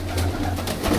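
Racing pigeons at a sale cooing in a brief low burst close by, over a steady low hum, with no talk.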